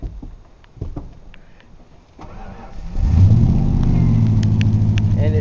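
A high-mileage car with its original engine, past 237,000 miles, cold-starts after a quiet pause. The starter catches and the engine fires into a loud, steady, rumbling idle that holds until the end.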